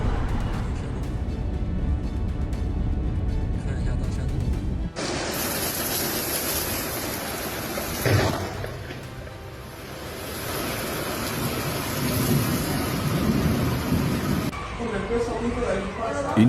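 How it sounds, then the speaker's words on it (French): Strong storm wind roars as a storm makes landfall in Brazil, a dense, constant rushing that buffets the microphone loudly, with an abrupt shift partway through and surging gusts later. "Une force de vent incroyable lorsque la tempête a touché terre"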